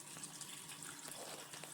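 Tap water running into a sink to defrost frozen sardines, a steady faint splashing flow that holds throughout with no talk.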